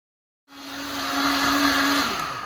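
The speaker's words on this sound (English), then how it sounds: "let's put the top on, and this takes about a minute to blend up" A countertop blender starts up abruptly after a brief silence and blends almonds into homemade almond milk, its whining motor roar building and holding steady, loud and alone.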